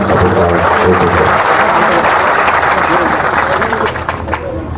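A large crowd at a Maratha community meeting breaks into loud, sustained applause that fades slightly toward the end, with voices mixed into the clapping.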